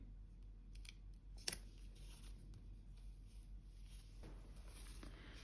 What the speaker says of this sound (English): I'm just going to cut this box up, I think.